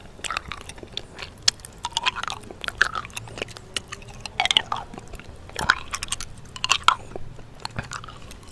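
Close-up mouth sounds from licking an orange lollipop: wet smacks, clicks and slurps come in irregular bursts, intimate and near, with no talking.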